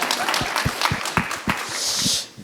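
An audience at a translation observatory event applauding, with sharp separate claps ringing out over a continuous bed of crowd clapping and noise, fading slightly toward the end.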